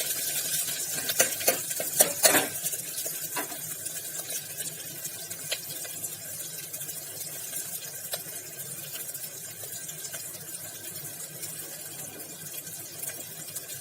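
Onions with salt frying in a pan for mutton curry give a continuous soft sizzle, with a few clinks and stirring scrapes near the start and no talk.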